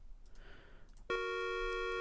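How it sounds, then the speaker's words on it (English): A telephone tone from the Maniac Mansion video game cuts in sharply and holds as a steady, loud electronic busy-signal drone after a stretch of quiet game background noise. "I apologize for having to use this phone for everyone's ears out there."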